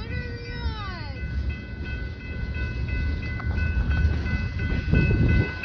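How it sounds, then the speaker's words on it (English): A long tanker train rolls steadily past at close range, a loud continuous rumble of wheels on rail, with a high sustained squeal and a rising whine early on, running alone without talk. "Yep, there's the end of the tanker."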